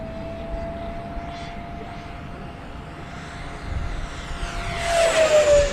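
An E-flite Twin Otter model airplane flies past at a model aviation day, its steady propeller drone holding through the pass and then swelling louder with a rising pitch sweep as it zooms close by.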